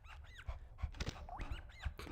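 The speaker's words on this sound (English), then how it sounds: "Oh my god, do I hear a dog?" Dog yips and whimpering whines in a series of short, rising calls over a low background rumble, fairly close and moderately loud.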